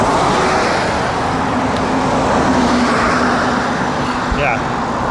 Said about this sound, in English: this is how the 101 sounds all the time.